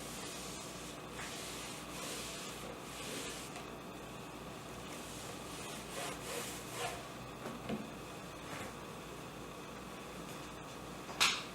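A damp Norwex EnviroCloth wipes across a countertop board, giving soft, breathy rubbing strokes that swell and fade, close and quiet, ending with a small sharper knock.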